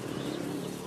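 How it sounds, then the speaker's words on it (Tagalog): Racing pigeons cooing softly in a loft, a brief, steady murmur of overlapping low coos with faint chirps, close by and continuous. "Ayan yung mga kalapati guys."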